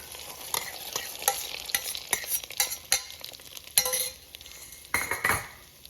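Condensed milk, ghee-fried cashews and milk stirred together in an Instant Pot for rice pudding, a spoon scraping and clinking against the metal pot in irregular close strokes over a faint sizzle, with no voices.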